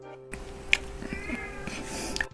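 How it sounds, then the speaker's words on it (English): A cat in a Final Fantasy VII fan game lets out a faint, short meow against a quiet, low ambient background. "And also there was a cat."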